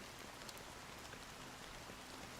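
Steady, soft rain patters down in the Honkai Star Rail game world, an even wash of drops with no voices and no breaks.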